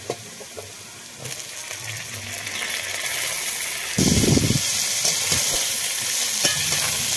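Moringa drumsticks go into a pan of potatoes frying in oil, and a steady sizzle grows louder as they are stirred, with a burst of clattering as they are tipped in partway through.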